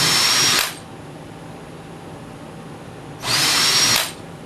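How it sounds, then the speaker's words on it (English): A power drill whirs loudly in two short bursts, drilling holes through sheet metal, spinning up and stopping, with a quiet pause between them. "we're going to chuck up the appropriate sized drill for the well nuts"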